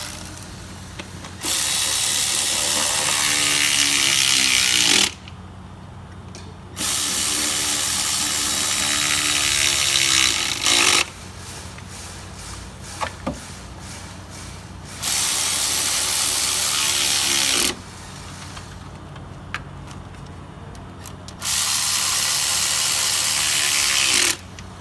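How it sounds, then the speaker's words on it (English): Electric ratchet tightening valve cover bolts on an Acura RDX, loud whirring runs of a few seconds each, four bursts separated by short pauses with faint clicks of the tool, no talk. "I'll just use my electric ratchet so that I can speed up the process a little."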